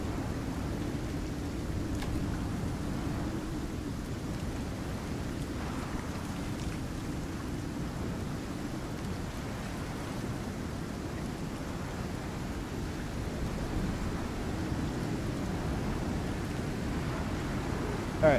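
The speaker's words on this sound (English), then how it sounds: "It's raining." Rain in the video game The Chant, a soft, steady low hiss of falling rain lasting throughout at a quiet, distant level, with no clear thunder and no voices.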